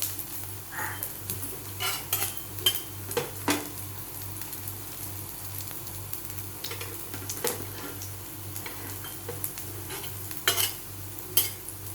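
Aloo tikki potato patties frying in oil in a pan, steady soft sizzle with occasional utensil scrapes and clinks, plus a low rhythmic hum underneath.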